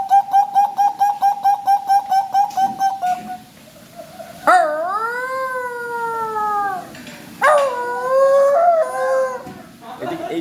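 A man vocally imitates animal calls: a rapid series of repeated high whooping notes like a coucal bird, then two long, loud, wavering howl-like cries mimicking a dog, close and alone with no other talk.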